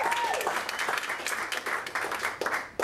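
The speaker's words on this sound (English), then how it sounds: "that was quite the applause." Applause from a comedy club audience, steady dense clapping throughout, fairly loud and close, with a brief whistle-like tone near the start.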